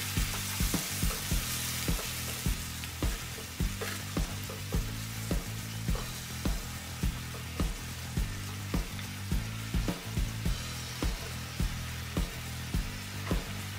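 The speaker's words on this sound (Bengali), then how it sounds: "এবার আমি সামান্য একটু পানি ঢেলে দিয়ে নাড়াচাড়া করে" Chicken pieces sizzling in a pan after a splash of water, stirred continuously; a dense, steady hiss with rapid rhythmic scraping and clinking strokes throughout, close and fairly loud, with no talking.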